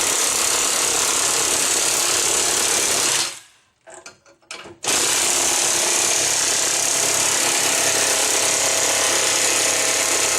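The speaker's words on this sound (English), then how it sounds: "then you take your impact wrench, and you're going to tighten up both sides" Loud, continuous rattling hammer of an impact wrench tightening bolts on both sides of an anvil, running close and steady, cutting out briefly for about a second, then resuming at full force.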